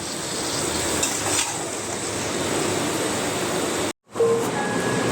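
Chicken is stir-fried in a pan with a continuous close sizzle and scraping stir sounds. The sound cuts off abruptly for a moment near the end, then the frying resumes.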